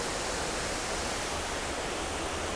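Steady, loud roar of a misty waterfall close by, a dense continuous rush of falling water with no breaks and no voices.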